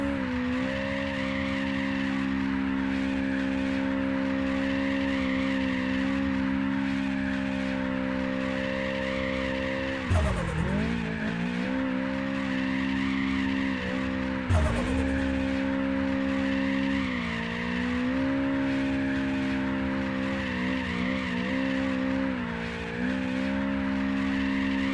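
Car drifting in the video game APEX POINT, with a steady high-revving engine drone and sustained tire squeal, two sharp skid bursts breaking through as the car slides; no talk.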